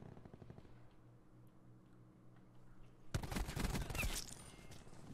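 Rapid bursts of automatic gunfire in Call of Duty: Black Ops 4, loud and dense in the second half after a quieter stretch of game ambience, with no talk over it.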